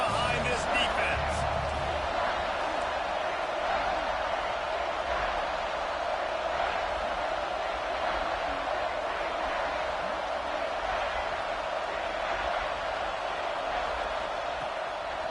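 A stadium crowd in an American football video game keeps up a steady broad roar for the whole stretch, loud and unbroken.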